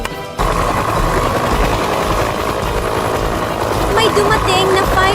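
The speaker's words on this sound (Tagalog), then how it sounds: "May dumating na fire rescue helicopter." A toy fire rescue helicopter sound effect plays as a steady, loud rotor-like rumble and drone, starting abruptly and continuing throughout, with some speech-like sounds layered over it.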